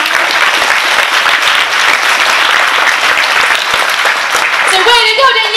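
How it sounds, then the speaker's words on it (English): A school audience gives dense, loud, sustained applause for a student award winner at a morning assembly. Children's voices start to rise over the clapping near the end. "Let's give her a round of applause."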